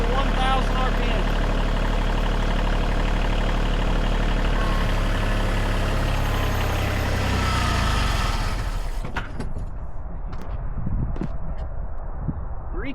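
A Kioti CK/CX tractor engine runs in high gear at 1,000 RPM, a steady loud low drone that cuts off near the end, leaving quieter knocks and rattles.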